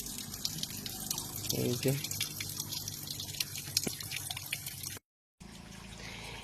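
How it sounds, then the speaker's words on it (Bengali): Cold spring water trickles and drips out of a mountainside, a close, steady splashing flow with a brief spoken remark over it and a short gap near the end. "শুধু পাহাড় থেকে ভিতর থেকে জলগুলা বেরিয়ে বাইরে আসছে।"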